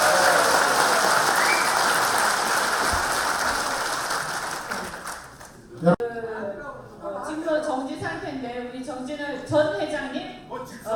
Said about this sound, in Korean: 큰 박수로 네, 환영해 주시기 바랍니다